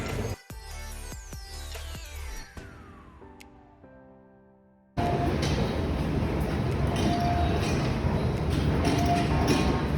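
Subway train heard up close: a descending whine and clatter over the first few seconds, a brief drop-off, then a loud, steady rumble of the car in motion that fills the rest of the time.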